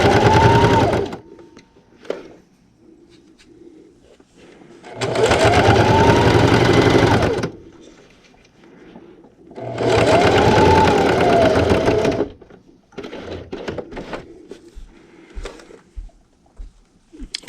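Sewing machine stitching fabric for a small pint-size ice cream cozy, running in two long steady bursts with pauses between for pivoting, plus shorter quieter runs of stitching toward the end.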